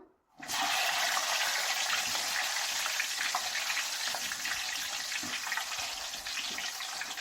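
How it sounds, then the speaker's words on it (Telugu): Gooseberries dropped into hot oil for pickle, setting off a sudden, sustained loud sizzle and bubbling hiss that begins after a brief moment of quiet and continues evenly to the end. "ఇప్పుడు మా మమ్మీ స్లోగా నెల్లికాయలు వేసుకుంటుంది ఆయిల్లో"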